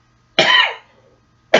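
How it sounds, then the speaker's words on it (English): A single sharp, close cough caused by allergies, followed by a short pause and the start of another cough, in a quiet room. "The coughing is due to allergies."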